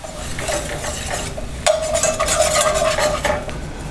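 A flour roux stirred in a pan, a loud close run of scraping and rattling strokes against the metal that grows busier and more ringing partway through, with a faint sizzle underneath.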